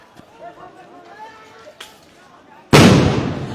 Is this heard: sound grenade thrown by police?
yes